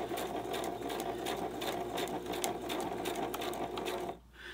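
Sewing machine stitches a patchwork journal cover in a steady fast rattling run, close and continuous, stopping abruptly near the end.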